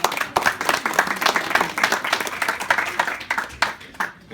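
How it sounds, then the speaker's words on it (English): A live audience claps for Kathy Corbett during a beach broadcast show, a steady patter of many hands, close and fairly loud, that thins out toward the end. "let's have a round of applause for Kathy Corbett"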